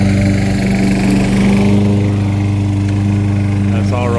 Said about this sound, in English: My dad's cutting the grass